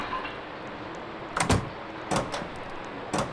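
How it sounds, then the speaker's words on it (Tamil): A door opening in a video game, a few short thuds and creaks spaced over a few seconds against a low hum, with no talk over it. "அப்படியே கதவை திறந்துட்டு உள்ளக்கு போய் பார்ப்போம்."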